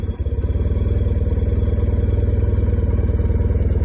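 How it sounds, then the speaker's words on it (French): A cold BMW R90S motorcycle engine idling on choke, running steady and fast with an even, unbroken throb that stays loud and close throughout, with no voices. "Moteur qui tourne très rond."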